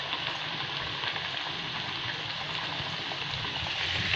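Dal vada patties frying in hot oil over a medium flame, giving a steady, dense sizzle and bubbling that holds at an even level throughout without pause.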